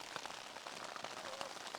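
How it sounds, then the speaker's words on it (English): Rain patters steadily on a Hilleberg Nammatj tent pitched in the Scottish mountains, a dense close pattering with scattered heavier drop taps and no talk. "So, still raining."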